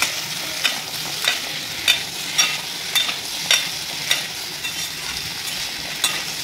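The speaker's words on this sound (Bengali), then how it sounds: "এর মধ্যে কেটে রাখা আলুটা আমি দিয়ে একটু ভেজে নেব।" Cut potatoes frying in a pan coated with spices, with a steady close sizzle and periodic scraping stirs that come about every half second, with no voice present.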